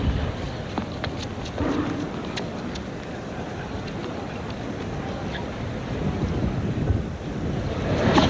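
Gusty wind buffets the microphone at an outdoor tennis match, a steady broadband rush with swelling gusts throughout and no clear voices over it.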